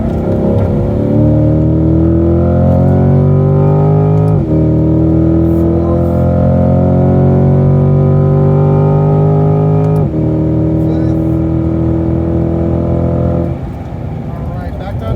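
A C8 Corvette engine on a track, loud and close, its steady high drone rising in pitch under throttle and dropping sharply at lifts and braking, with gear changes breaking the tone.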